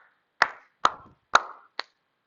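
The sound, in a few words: hand clapping to count a rhythm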